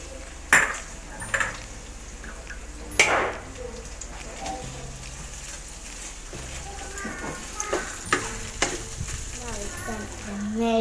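Shrimp go into a hot pan for turmeric fried rice, sending up a steady sizzle and fry crackle. Metal utensils clank and scrape against the pan throughout, with a few louder knocks.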